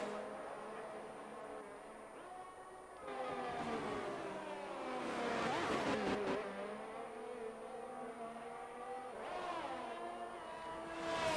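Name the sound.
Ferrari race car engine in racing video game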